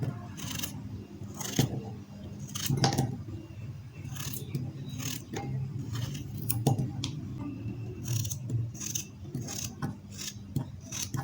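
Okra being sliced into quarters on a cutting board, producing a series of close, short crisp cuts and soft scraping taps at an irregular rhythm, with no talking.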